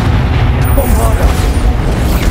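The Bombarda spell in Hogwarts Legacy lands as a loud, booming blast that rumbles on through the whole moment, and a voice calls out over the explosion.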